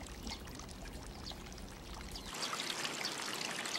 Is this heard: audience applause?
no